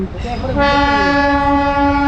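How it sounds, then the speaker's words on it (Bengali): A Tata toy train in the Gidda Pahar hills sounds a long, loud horn blast that swells after a brief rumble of the moving train. "tata toy train"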